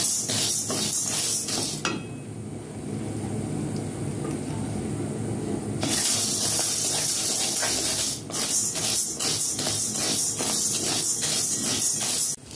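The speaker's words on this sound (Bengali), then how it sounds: "প্রথমে আমি ডালটা ভেজে নেব বন্ধুরা" Dal (lentils) fries in a pan for Odisha-style dalma, giving loud, crackling sizzles that drop to a softer hiss for a few seconds midway, then flare back up sharply.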